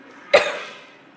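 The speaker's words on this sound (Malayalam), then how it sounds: "വല്ലാത്ത ചുമയാണ്," A single sharp cough, close and loud, decaying quickly into quiet.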